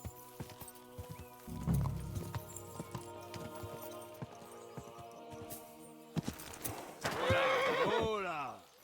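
A horse neighs loudly in Kingdom Come: Deliverance II while hooves clip-clop at a walk. A long, descending whinny comes late in the clip over steady in-game hoofbeats. There is also a low rumble early on.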